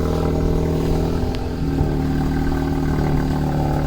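A Volkswagen MK7 Jetta GLI with its resonator in place runs close by, its exhaust giving a steady, loud engine drone with small blips in revs and no voices.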